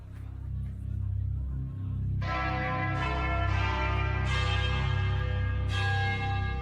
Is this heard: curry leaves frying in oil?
no